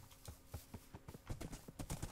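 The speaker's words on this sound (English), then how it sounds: "There's horses here." Minecraft horse sounds in a survival game: rapid, irregular hoof clip-clops, soft and synthetic, thudding steadily with no talk over them.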